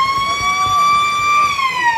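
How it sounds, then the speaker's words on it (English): A loud, sustained siren wails steadily and close at an Australian rules football ground as the final quarter of a Balwyn versus Noble Park match begins, holding one long tone throughout with faint crowd noise beneath. "The siren sounds to begin the final stanza of this game."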